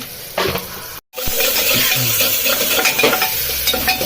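Green chili paste, ginger-garlic paste and turmeric sizzle in hot oil while being stirred, a steady loud frying hiss with scraping spoon strokes after a brief gap at the start.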